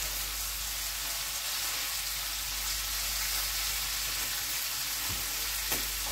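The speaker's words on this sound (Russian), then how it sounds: "Сейчас вот так поджаримся и потом побольше лука." Liver sizzles in a frying pan with a constant loud hiss and spatter, and a couple of soft clinks or stirs come near the end.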